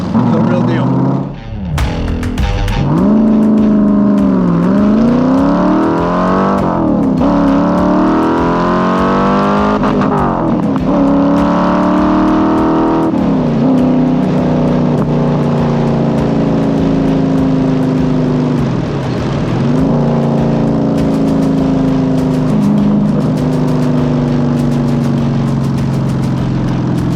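A 1965 Shelby Cobra with a Roush engine idles loudly up close and then blips through several long revs that rise and fall, and the deep engine note dominates throughout. Voices are faintly present underneath.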